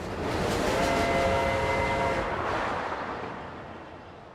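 A high-speed train rushes past in a loud, broad roar that holds steady, then slowly fades as it recedes, with a faint tonal whine in the mix and no talking.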